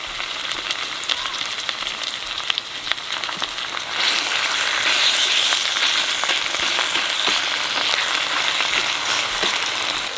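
Ginger garlic paste drops into a hot pan partway through, and a quiet background crackle swells into a louder, steady, close sizzle that carries on to the end.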